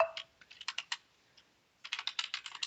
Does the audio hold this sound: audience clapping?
no